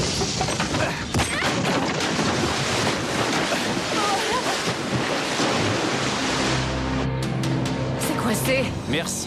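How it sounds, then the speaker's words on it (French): Car plunging into water amid loud, continuous rushing and churning surf and wind noise, a dense roar throughout with some splashing and bubbling toward the end. "Frankie, on est tombé à l'eau et les portières sont coincées"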